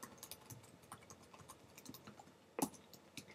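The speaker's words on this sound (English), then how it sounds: "So I'll begin typing my notes right now." Notes being typed on a computer keyboard, quiet irregular clicking keystrokes close by with one louder clack near the end, no talking.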